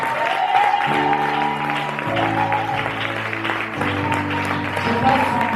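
Congregation applauding during a Sunday church service: a steady wash of clapping runs throughout beneath sustained keyboard chords that change every second or so.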